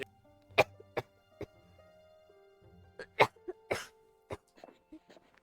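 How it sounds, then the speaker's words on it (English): A person coughs repeatedly in short, sharp bursts spread across the clip, with brief pauses between them, fairly close and moderately loud. "I'm sorry for coughing."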